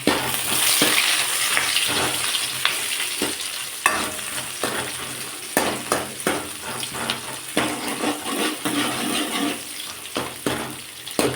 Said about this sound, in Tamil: வெங்காயம் பூண்டு போட்டு